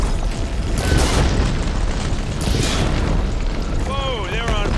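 A fire attack explodes in the video game Horizon Forbidden West, a loud continuous roaring boom with rumbling bursts throughout and a whooshing, sweeping effect near the end.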